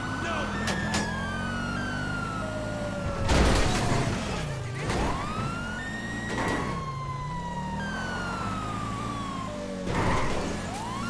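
A police siren in the online game GTA Online wails with repeated rising and falling sweeps over engine rumble, broken up by several loud bursts, with some talk in the background.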